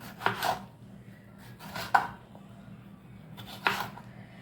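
Small to medium tomatoes being chopped with a knife on a board, three distinct sharp cuts spaced about a second or more apart, close and clear against a quiet room.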